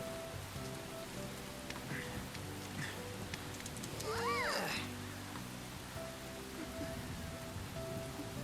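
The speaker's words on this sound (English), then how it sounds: "gotta love the rain." Steady rain from the video game Persona 5 Royal patters as a constant background wash, with a cat meowing in the middle and faint game music underneath.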